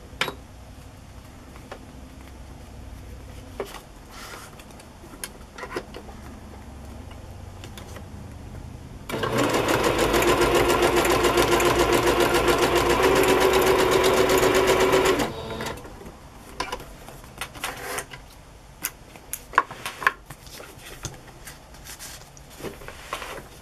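A sewing machine zigzag-stitches a small paper embellishment for a junk journal, running in one steady, loud buzzing burst of about six seconds between quieter handling clicks and rustles.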